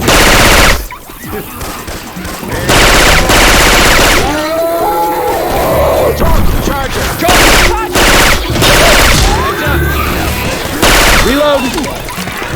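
Rapid automatic gunfire from Syphon Filter weapon sounds swapped into Left 4 Dead 2, loud bursts of shots with short gaps between, while in-game character voices call out about reloading over the shooting.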